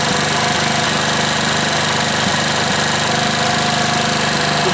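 Hero Splendor motorcycle engine idling steadily and loudly close by during an air-fuel mixture screw adjustment, its rapid even putter continuing without pause and with no talk.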